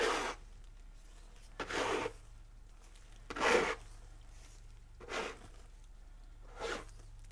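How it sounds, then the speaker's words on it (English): Five slow, separate swipes of a spatula pulling white acrylic paint up and over in fluid pouring, each a soft, close, wet scraping rasp with quiet pauses between. "put the spatula under, and pull it up over"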